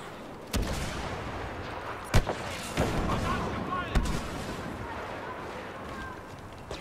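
A grenade going off in Star Wars Battlefront amid a firefight, sharp close blasts and gunshots at about half-second to two-second intervals over a steady din of battle, with a voice talking quietly underneath.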